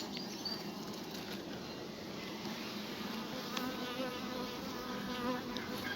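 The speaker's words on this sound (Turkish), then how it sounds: "Güzel arı yoğunluğu var." A dense, steady hum of many honeybees buzzing close by around a hive, continuous and even throughout without pause.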